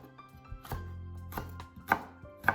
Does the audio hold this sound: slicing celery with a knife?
yes